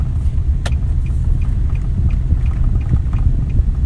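A Nissan Titan pickup truck with clogged catalytic converters drives along, its engine giving a steady, low, muffled rumble with no voices over it.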